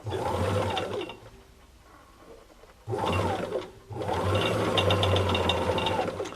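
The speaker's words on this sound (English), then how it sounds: "So we'll do straight stitch, the longest length, and we'll sew a little bit." Vintage Kenmore 158 sewing machine running a long straight stitch, its motor whirring and needle clattering steadily in two close bursts separated by a quieter pause, no talking.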